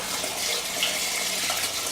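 Cold tap water runs steadily into a pan for egg coffee, a continuous close, moderately loud splashing hiss with no talk over it.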